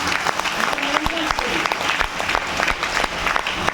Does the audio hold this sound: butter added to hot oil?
no